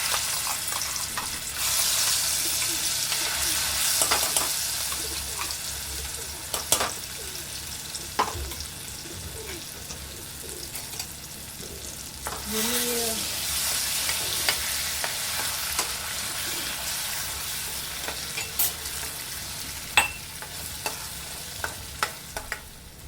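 A paste of green chilli, garlic, cumin and peanut sautés in hot oil, a soft steady sizzle with occasional clicks and scrapes of stirring, close by and without speech.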